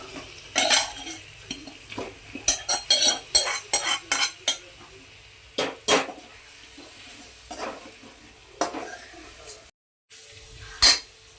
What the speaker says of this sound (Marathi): मसाले चांगले ना तेलामध्ये परतून घ्यायचे